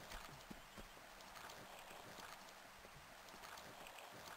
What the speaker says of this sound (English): Okay, I hear footsteps.